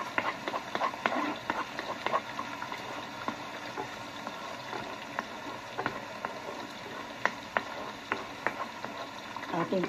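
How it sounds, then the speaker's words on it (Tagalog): Langoustines fry in a pan with a steady, fairly quiet sizzle broken by scattered sharp crackles and pops throughout. "Lutuin ko muna po itong ating langustino."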